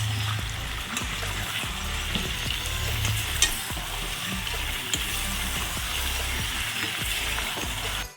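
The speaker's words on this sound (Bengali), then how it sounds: "সেই মশলাটি আমি এর মধ্যে দিয়ে দিয়ে আমি ভালো করে নাড়াচাড়া করে দিচ্ছি" Spice masala for a restaurant-style chicken curry frying in a pan and being stirred, a steady close sizzle with frequent scraping strokes of the spoon, no voices.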